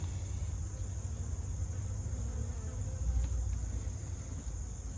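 Steady, continuous buzzing of a few bees close by, a soft droning hum with a high whine, holding even throughout with no talking.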